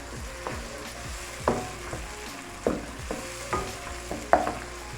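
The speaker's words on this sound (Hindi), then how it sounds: "आधा टीस्पून के करीब ये कुटी हुई काली मिर्च चली जाएगी और 1 टीस्पून इसमें ज़ीरा चला जाएगा। ज़ीरा इसमें ज़्यादा जाता है। इसको मिक्स कर लेना है।" Salt, black pepper and cumin are stirred into an egg dish in a hot pan. Soft sizzling runs underneath periodic scraping strokes of a spoon against the pan, close and moderate, with no talking.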